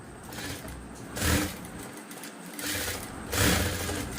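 A sewing machine stitches a half saree blouse made from a saree, running in steady bursts with a quiet pause in the middle, close and fairly loud with no talk over it.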